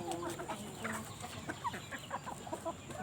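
Several hens cluck and chatter in short, irregular bursts, moderately close, with a constant low background hum.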